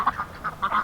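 Several ducks quack in short bursts, a handful of close, loud nasal calls spread unevenly over under a second, with no talk over them.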